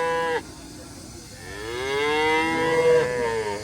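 HF Jersey cattle at the Seenapuram cow market in Erode give long, drawn-out moos, close and clear, with a lowing call rising and falling and no talk over it.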